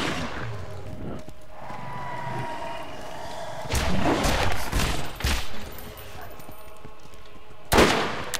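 Third-person Borderlands shooter combat: a steady bed of game noise gives way to several loud bursts of gunfire in quick succession midway, then one more sharp volley near the end.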